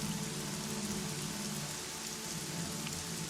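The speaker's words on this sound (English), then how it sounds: "first hear the sound of rain." Steady rain pouring down as a sound effect, a dense continuous patter of drops on a surface, loud and even throughout with no talk.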